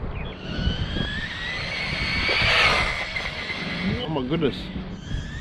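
A JJRC SCT short course RC truck on 3S power runs at full speed, its electric motor whining high and rising to a loud peak as it passes close, then easing, while a person exclaims over it.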